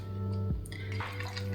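Rum pours over ice into a muddled cocktail glass: a short liquid splash and trickle over a steady low hum in a home kitchen.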